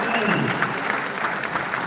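Applause from an audience filling a conference hall at an African caucus closing session in Gambia, steady dense clapping throughout the brief moment, loud and close.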